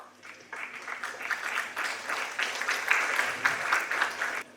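An audience at a talk on artificial intelligence gives a round of applause, a moderately loud, steady patter of many hands that swells slightly and then cuts off abruptly.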